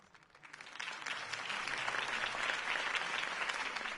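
Enthusiastic crowd applause in the video game Batman: The Telltale Series swells up from quiet and holds steady, a dense wash of clapping heard at moderate distance.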